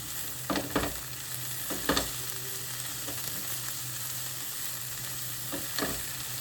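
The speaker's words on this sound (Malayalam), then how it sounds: "ഇതിലേക്ക് ആവശ്യത്തിന് മഞ്ഞൾപ്പൊടി ഇട്ട് നന്നായിട്ടൊന്ന് ഇളക്കിയെടുക്കുന്നുണ്ട്" Agathi cheera leaves seasoned with turmeric stir-fry in a pan, giving a steady soft sizzle broken by a few scraping stirs of a spoon. No one talks.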